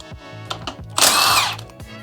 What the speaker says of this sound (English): Take our impact here. We're just gonna zap these guys off.